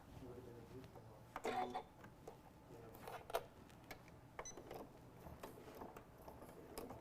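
A home sewing machine stitches a square through soft Velcro at a 2.4 stitch length, with quiet mechanical whirring, ticking and a few short louder bursts over a low hum.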